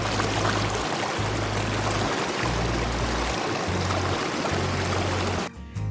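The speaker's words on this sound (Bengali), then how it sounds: "গায়ে একটা আলাদাই শিহরণ দিচ্ছে নদীর শ শ শব্দ" Snowmelt-fed Rishi river, ice-cold, rushing steadily close by in Sikkim, a loud continuous broadband roar of flowing water with a low rumble, holding evenly before dropping off abruptly near the end.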